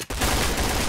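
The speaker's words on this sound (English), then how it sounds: "oh, he sees him, and U20 with a body shot" Gunfire from the tactical shooter game Point Blank (Piercing Blow) during a tournament final match, a dense, continuous burst of rapid shots filling nearly the whole moment after a brief initial gap.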